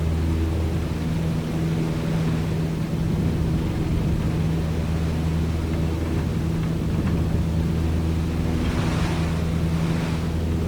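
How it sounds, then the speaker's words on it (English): Airframe noise from an aircraft in flight in Microsoft Flight Simulator 2020 with the FSRealistic add-on, a steady whooshing rush of air over a low engine drone, continuous and fairly loud throughout. "let's listen to the airframe sounds"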